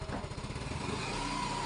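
A Yamaha Mio i 125 scooter engine runs after a repair for a smoking fault. It gives a close, steady idle with a rapid pulsing exhaust note that stays even throughout.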